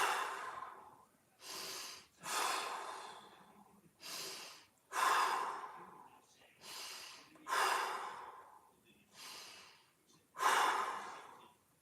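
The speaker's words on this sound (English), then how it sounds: "5 nose-mouth breaths" Slow, deliberate breathing during a mobility exercise, alternating nasal inhales and breathy mouth exhales in about eight evenly spaced rises and falls, close and quiet, with no talking.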